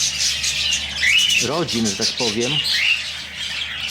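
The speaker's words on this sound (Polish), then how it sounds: "Te ptaki zresztą myślę, że słyszycie w tle, bo tam ich jest chmara" Budgerigars in an aviary squawk and chirp in a busy background chorus, and someone talks over them at close range.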